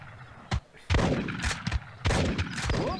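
Rifle shots in the arcade hunting game Big Buck Hunter Pro crack out sharply about four times, each a loud, near, abrupt blast, with game sounds filling the gaps between them.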